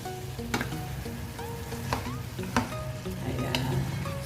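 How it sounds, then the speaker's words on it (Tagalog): Mung bean sprouts sautéing with pork in a pan, a steady low sizzle with periodic scraping and stirring clacks of a utensil against the pan every second or so, close and moderately quiet. "Iluto yung toge or sprout."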